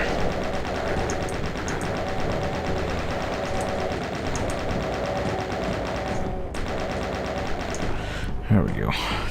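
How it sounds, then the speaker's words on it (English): Sustained rapid chain gun fire in the video game DOOM, a dense continuous mechanical rattle running loud and steady for the whole stretch, with brief pauses and other game effects near the end. "Let's do crazy chain gun marathon here."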